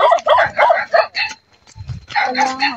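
Several stray dogs bark a few times along a roadside as people walk past, sharp yips and woofs at moderate distance, with people talking over and between the barks.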